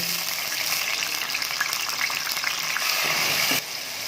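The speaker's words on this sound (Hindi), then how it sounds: "अब हम डालेंगे इसके अंदर हमारी चॉप प्याज और इसको फ्राई करेंगे।" Chopped onions frying in hot ghee, a loud, steady sizzle heard up close throughout, with a brief stirring shift near the end.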